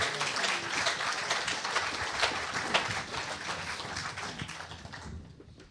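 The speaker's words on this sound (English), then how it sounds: "big, massive round of applause, please." A live audience claps for a band before its set, a dense, even crackle of many hands that holds steady and then fades out at the end.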